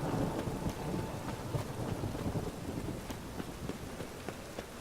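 Rain and thunder in the video game The Witcher 3, a steady dense patter of rain with a low rumbling undertone, continuous and fairly loud throughout with no voices.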